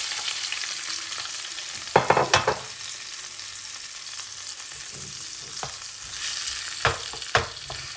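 Cumin, onion and tomato sizzle and fry in a pan for paneer gotalo, a steady close hiss broken by several sharp scraping stirs of a spoon against the pan, with no talking.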